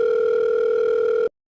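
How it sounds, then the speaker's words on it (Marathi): A steady telephone dial tone hums loud and close for about a second, then cuts off abruptly into silence. "मन्याला फोन लावून घ्यायचं."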